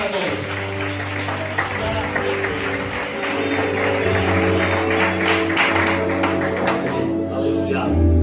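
A church congregation applauds during a Sunday worship service, steady clapping running under sustained musical tones, with voices talking over it.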